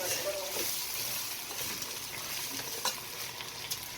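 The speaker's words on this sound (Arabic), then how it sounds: "بعد ما قلبنا الرز كويس هنحط الميه السخنه عليه" Rice being stirred in a cooking pot with a steady sizzling, frying hiss and occasional scraping clinks of a utensil, close and continuous.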